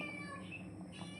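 A cat meows near a home kitchen where a curry is being cooked, a short plaintive call at moderate level over a steady background hum.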